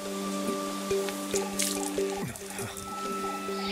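Water drips and trickles at a sacred spring in a forest beside a Buddhist temple, with steady, evenly spaced drops over a constant background hum and a brief rush of splashing near the middle.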